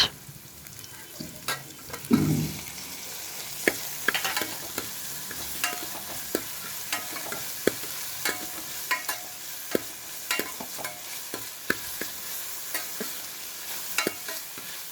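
Onions and tomatoes sautéing in a pan for crab curry, with a constant close sizzle and frequent sharp scraping clicks as a spoon stirs, plus one low thud early on.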